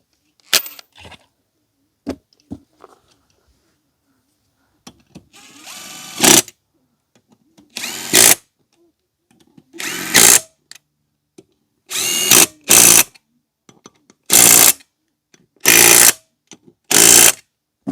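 A power tool with a socket runs lug nuts onto an ATV wheel, firing in short loud bursts of whirring and rattling, about nine separate spins separated by quiet gaps and small clicks.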